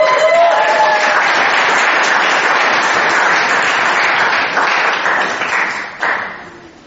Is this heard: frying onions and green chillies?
no